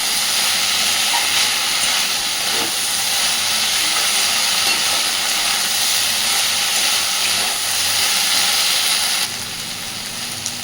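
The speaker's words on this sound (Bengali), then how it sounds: "খুব ভালোভাবে সব কিছুকে একটুখানি ভেজে নেব।" Soybean chunks frying with spices and sauce in a pan, a loud, steady broadband hiss and sizzle that continues evenly and drops slightly near the end.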